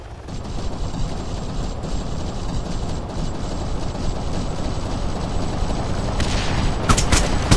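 Dense, continuous battlefield gunfire from ArmA 3 King of the Hill, with sustained rattling volleys over a rumbling mechanical drone, a few sharper cracks near the end.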